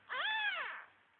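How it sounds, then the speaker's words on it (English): A two-week-old kitten, the runt of the litter, gives a single clear, rising-and-falling meow, close and moderately soft, with no voices over it. "the runt's the one that's meowing a lot"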